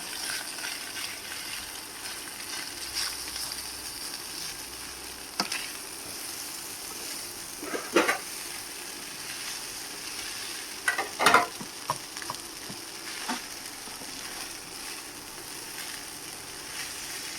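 Cooked rice goes into a hot pan with egg for fried rice and sizzles steadily, with a few louder clunks and scrapes as it is stirred and tossed.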